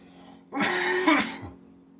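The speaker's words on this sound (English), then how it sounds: "Hold on one second, let me cough." A single close cough, short and throaty like a quick throat clearing, in an otherwise quiet room.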